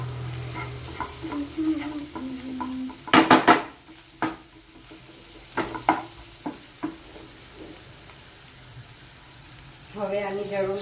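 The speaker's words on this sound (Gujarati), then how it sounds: "અને 1 મિનિટ શેકાવા દઈશું મસાલાને 1 મિનિટ સુધી" Masala spices roast and sizzle in a pan for a paneer dish, with a soft crackle broken by sharp spoon-on-pan stirring clanks and scrapes, and brief voices murmuring.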